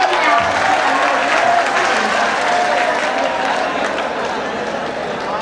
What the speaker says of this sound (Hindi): एक बार तालियां खुल करके बजा दें